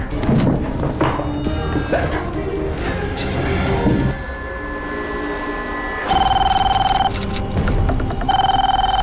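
After a stretch of mixed background noise, a loud electronic phone ring starts, sounding in two long bursts separated by a brief pause.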